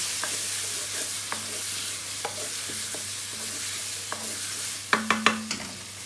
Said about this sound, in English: it's been a few minutes, the potato's been cooking away